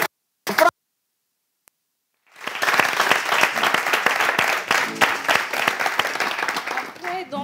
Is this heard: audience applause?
yes